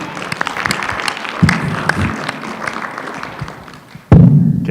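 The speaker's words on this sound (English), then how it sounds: "Can we just give a round of applause to Dexton?" Scattered applause at a student fee board meeting, a handful of people clapping unevenly, with a loud thump or microphone bump near the end.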